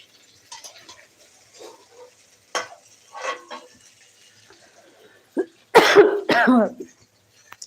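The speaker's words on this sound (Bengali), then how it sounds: "কাশিয়ে গেছে ঝাঁক দিতেছে" A person coughs and clears their throat from the fumes of fish oil frying pakoras in a home kitchen, a couple of harsh, close coughs near the end after scattered soft kitchen clatter and faint sizzling.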